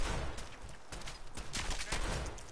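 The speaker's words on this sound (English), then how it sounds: "I wasted a shotgun shell because I was too slow." Shotgun blasts and scattered gunfire ring out in a survival video game, a dense run of sharp bangs at moderate loudness.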